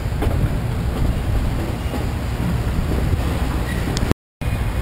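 A steady rumble of rail traffic at Chicago's Union Station fills the space, a low continuous train noise with a brief dropout near the end.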